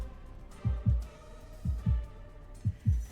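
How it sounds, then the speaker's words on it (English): Paired heartbeat thumps repeat in a slow, steady lub-dub rhythm, three double beats in all, deep and close over a quiet hum with nothing else. "My heartbeat is all I can hear"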